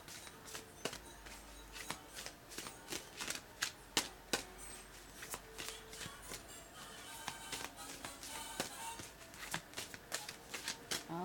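Tarot cards are shuffled over and over, close and crisp, in a quick run of sharp riffling slaps and taps that keeps going steadily, with a quiet voice now and then underneath.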